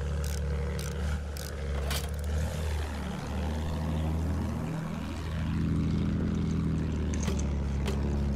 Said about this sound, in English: Enemy plane in sight!